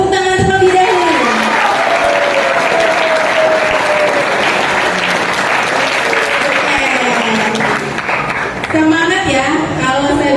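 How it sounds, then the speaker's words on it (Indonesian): Students at an Islamic boarding school, gathered for a dengue health outreach, clap loudly and continuously in a thick, even burst of applause, while a speaker's voice carries on over the clapping. "Sebelumnya kita tepuk tangan terlebih dahulu."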